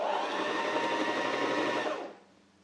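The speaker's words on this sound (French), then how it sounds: "La machine est bloquée puisqu'elle est en mode canette. J'ai poussé ma canette contre l'axe butoir, je tiens le fil, je vais appuyer sur la pédale et faire plusieurs tours" A sewing machine winding a bobbin runs as a steady, close whirring motor hum for about two seconds, then stops abruptly, leaving quiet room tone and no speech.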